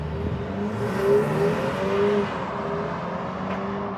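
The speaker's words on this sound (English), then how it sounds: "Man, what a great engine." A 2025 BMW X3 30 xDrive with a B48 engine and 48-volt mild hybrid revs and pulls away, a steady droning whir that swells briefly then holds, fairly close, with no talking.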